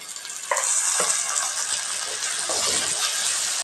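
Tomatoes and potatoes are tipped into a pan of sautéing onions for a vegetable kara kolambu, setting off a steady loud sizzle with a few sharp clatters from the spoon and pan.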